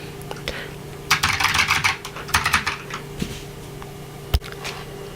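Fast clicky typing on a Matias Tactile Pro keyboard with Alps SKBM Gray switches, close up, in bursts of rapid keystrokes that give way to scattered single presses.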